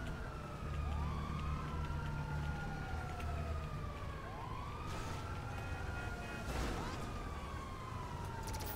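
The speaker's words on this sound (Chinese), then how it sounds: "路上好多警车哦！" Several police car sirens wail at once in GTA 4, their rising and falling tones overlapping over a constant rumble of rain and traffic, with a couple of brief sharp bursts.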